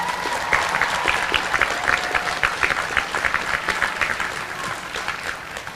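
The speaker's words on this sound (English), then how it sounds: "Let's really give them a round of applause for all of those who helped you." Audience applause at a commencement ceremony, a steady wash of many hands clapping that fills the whole stretch at a loud, even level, with a few faint voices mixed in.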